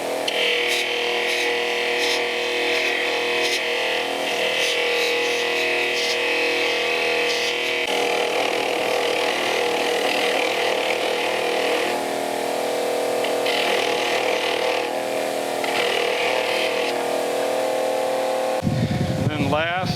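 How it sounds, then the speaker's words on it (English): Wire wheel and Scotch-Brite wheel stripping and polishing front control parts from a Monarch lathe, a steady loud grinding whir running continuously for about eighteen seconds before a brief clatter near the end. "we'll start out over on the wire wheel, just getting it stripped down. And then again, over to the Scotch-Brite wheel to polish it up."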